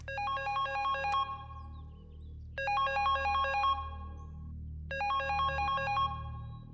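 A telephone rings in an Indian film scene after the power goes out: three bursts of bright electronic ringtone, each about a second and a half long, separated by pauses, over a low background hum.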